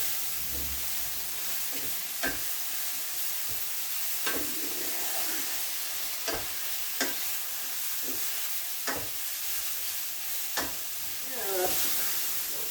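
Mushrooms sizzle steadily in a pan with crushed chilies, for a mead and mushroom spaghetti, while a utensil stirs them in sharp, irregular scrapes and clacks every second or two over the constant hiss.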